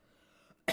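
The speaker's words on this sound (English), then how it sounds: "And now I'm coughing." A faint steady hum followed by a single sharp cough from someone with COVID at the very end.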